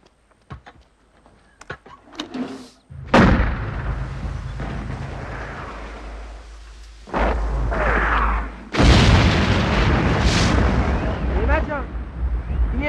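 Several heavy explosions boom in succession after some scattered sharp cracks, each blast followed by a long rumbling roar and debris noise, with voices shouting between.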